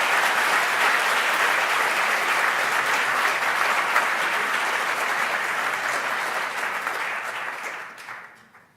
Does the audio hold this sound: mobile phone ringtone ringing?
no